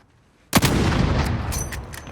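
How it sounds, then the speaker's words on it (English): A grenade explodes during a competitive Call of Duty match: one sudden, loud blast after a brief quiet, followed by a long rumbling decay with a few faint crackles. "That's not the kind of grenade you want to see."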